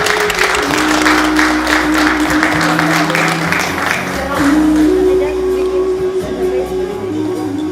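An audience at a Bashkir kurultay gathering applauds to welcome a council deputy, a dense, steady wash of clapping that fills the hall for several seconds, with a sustained tonal hum beneath and voices mixed in.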